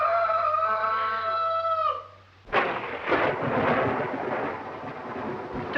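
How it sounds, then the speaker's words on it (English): Thunder crashes during a storm in an old dark house, a sudden loud crack that rolls into a long rumbling roar, preceded by a sustained wavering tone that sounds like howling wind. "Storm's just as bad as ever, isn't it? Worse."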